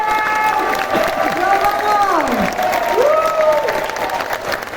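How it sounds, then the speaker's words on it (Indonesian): An audience applauds Bro Roni Manuel at a large party gathering: dense, steady clapping from a big crowd, loud and sustained, with a voice talking over it. "Kalau gitu tepuk tangan yang meriah untuk Bro Roni Manuel."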